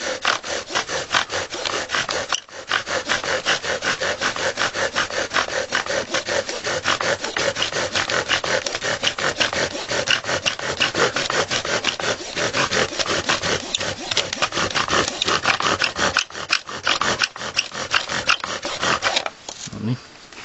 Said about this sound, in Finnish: Ensimmäistä savukiehkureista ei kannata vielä innostua, että jatkaa poraamista